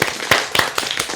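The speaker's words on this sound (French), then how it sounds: "Moi, j'applaudis." Brief scattered clapping from a small group after a French improvised comedy sketch, a few sharp claps close by over a short stretch with no voices.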